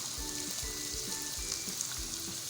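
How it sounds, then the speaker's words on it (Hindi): Oil sizzles steadily in a pan as chicken tikka biryani masala fries, with low rhythmic scraping or stirring pulses underneath and no voices. "तो यहाँ पर 1 से 2 मिनट हो चुके हैं फ्राई करते हुए।"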